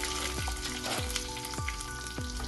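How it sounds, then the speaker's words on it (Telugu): Cumin, mustard seeds and chana dal for a Telugu-style tempering crackle and sizzle in hot oil, a steady close frying hiss broken by several sharp pops from the spices. "నెక్స్ట్ పోపు చేస్తున్నా"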